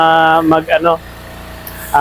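The built-in engine of a grain vacuum machine, used for picking up drying rice grain, runs with a steady close hum, with a voice heard briefly over it at the start.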